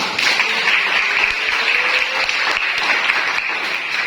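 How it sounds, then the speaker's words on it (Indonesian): Steady applause from a seated audience at a talk in Indonesia, many hands clapping continuously and evenly for about four seconds, fairly close and loud. "Berikan tepuk tangan."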